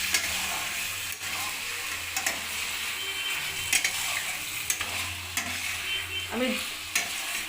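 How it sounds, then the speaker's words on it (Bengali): Masala sizzles and fries in a pan with cauliflower and potato while a spoon stirs and scrapes it in irregular strokes, a close, continuous crackle with occasional clicks and a faint background hum. "এবার আমি মশলাটাকে ভালোভাবে কষিয়ে নেব"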